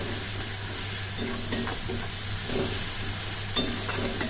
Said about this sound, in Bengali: ভালো করে মশলা কষিয়ে নিতে হবে